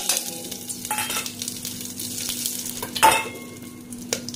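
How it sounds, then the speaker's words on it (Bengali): Bay leaves and whole spices sizzle in hot oil for vegetable pulao, a continuous bright frying hiss with a few spoon stirs and one sharp metallic clink near the end. "তেলটা গরম হয়ে গেছে, আমি তেজপাতা দিয়ে নিচ্ছি।"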